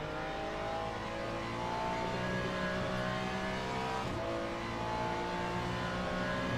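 Hypercar engines roar in the Le Mans Ultimate racing game, a quiet, continuous racing drone with faint shifts in pitch as cars run together on a final lap.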